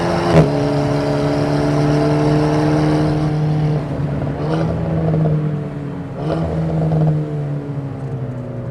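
A car spinning its wheels on the wet Nürburgring, the engine holding a loud steady drone with rising and falling pitch and brief surges, close and continuous with no talking over it.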